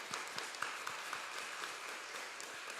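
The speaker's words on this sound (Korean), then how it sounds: "우리 박수로 환영하도록 하겠습니다" A church congregation applauding steadily for a few seconds during a Sunday service, a sustained patter of many hands clapping at moderate volume.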